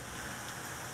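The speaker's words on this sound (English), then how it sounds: "yep, it's raining." Steady rain falls outside on a blowing, stormy day, a dense even hiss with no breaks, moderately loud and filling the whole moment without any voices.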